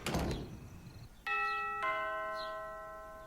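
A doorbell chimes in a horror short film, a two-tone ding-dong with clear sustained ringing tones that decay slowly, following a brief burst of noise at the start.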